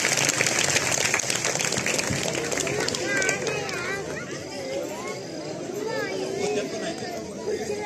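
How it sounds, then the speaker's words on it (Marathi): An audience claps loudly at a karate demonstration held at a Balganesh mandal in Budhgaon; a dense burst of applause fades into crowd chatter and babble. "जोरदार टाळ्या वाजवायच्या आहेत."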